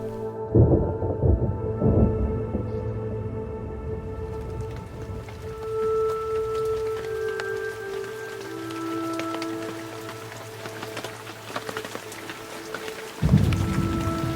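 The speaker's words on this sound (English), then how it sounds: "rain, go away" Steady rain with rumbles of thunder at a fishing lake where carp rods are set out, a continuous wash of falling drops with low rolling thunder building and fading, no voices.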